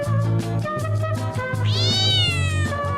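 Cat meow sound effect played during a live chat stream, drawn-out rising and falling meows, loud and close, over a steady low tonal background.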